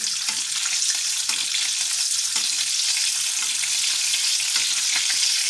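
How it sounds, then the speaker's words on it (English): A steak frying loudly in a pan while being basted with rosemary-infused oil, a dense continuous sizzle and crackle up close with faint spoon and pan movements, no speech. "the more and more rosemary is just getting cooked into the oil, and you're hitting the steak with it"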